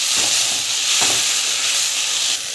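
Mint, coriander and other chutney ingredients sauté in a pan with a steady close hiss of frying, plus a couple of soft stirring knocks.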